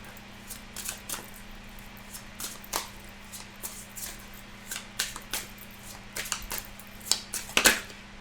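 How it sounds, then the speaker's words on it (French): A deck of tarot cards being shuffled by hand in a quiet room, giving a run of soft, irregular papery riffles and flicks, some louder than others, over a low steady hum. "je vais remélanger les cartes"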